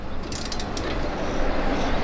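A ratchet clicks in a quick short run while tightening the front brake caliper bolts on a 2011 Ford Escape, close up over a steady background hum.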